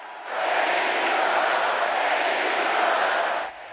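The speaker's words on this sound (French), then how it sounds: "Sans succès, le président essaye d'interrompre les acclamations" Convention audience giving a prolonged ovation to Joe Biden, a dense, loud wash of applause and cheering that swells in, holds steady for a few seconds, then drops away.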